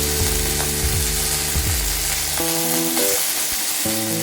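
Ginger paste frying in hot oil for a Bengali pointed gourd curry, a loud, constant close sizzle with no pauses. Sustained tonal hums sit underneath and change pitch partway through.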